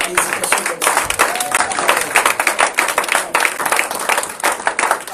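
A church congregation claps during a Sunday service, with many hands in a dense, uneven patter of applause that rises and falls, and scattered voices mixed in.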